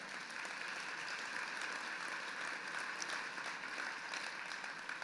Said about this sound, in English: Give us a round of applause for that.